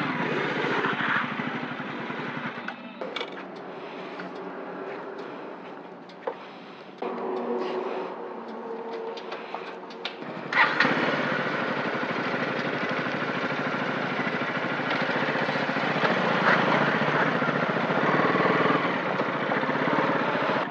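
A motorcycle engine runs steadily throughout, a droning mid-pitched hum that shifts in tone partway through and grows a bit louder and rougher toward the end, with no clear talk over it.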